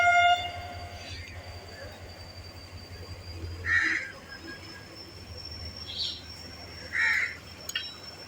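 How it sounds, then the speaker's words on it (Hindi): A departure whistle sounds for the Shah Latif Express at a Karachi Circular Railway stop: two short, shrill blasts several seconds apart over a quiet station background. "सेकंड डिपार्चर विसल देते हुए।"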